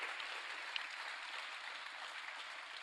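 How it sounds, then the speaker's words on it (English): Sustained applause fills the hall at the Pacific Dataviz Challenge 2024 prize ceremony as winners are announced, a steady even wash of clapping with no pauses, moderately distant. "Je vous avais dit que ce serait long les applaudissements"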